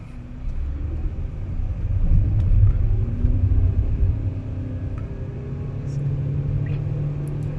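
An MG Astor car's engine rumbles low and steady from inside the cabin, rising slightly as it accelerates toward about 2,200–2,300 rpm, with faint road noise.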